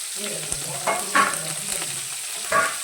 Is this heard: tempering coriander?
yes